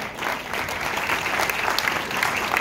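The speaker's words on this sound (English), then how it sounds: "Can we have a round of applause for him?" An audience applauds a guest at an IAD Kolkata event in September 2024, sustained clapping from a crowd that stays steady, close and fairly loud throughout.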